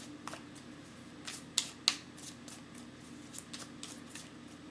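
Tarot cards being shuffled and handled during a reading: soft, quiet papery riffles with a few sharper flicks and snaps, close and alone with no talking.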